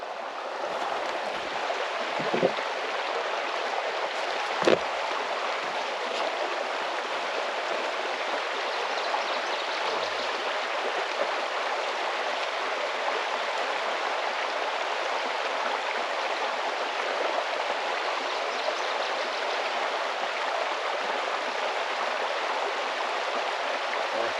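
Water pumping to an off-grid house from a well pump, heard as a continuous broadband rushing flow that stays even and close for the whole stretch, with a few faint knocks.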